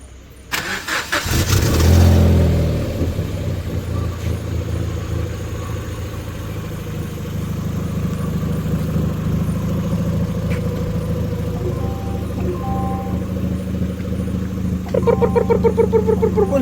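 A modified car engine cranks and catches with a loud surge, then settles into a steady, throaty idle close by, its tone shifting slightly near the end; nobody speaks.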